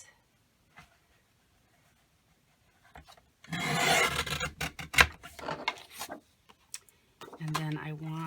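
Paper planner cover being cut and trimmed, a rough rubbing, rasping burst of a few seconds at close range, followed by a few short scrapes and a faint tonal hum near the end.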